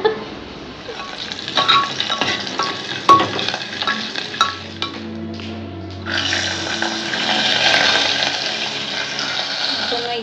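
Chopped ginger goes into hot oil in a pan and is stirred, producing a close frying hiss with spoon scrapes. The sizzle swells louder and steadier partway through, and a voice is briefly heard early on.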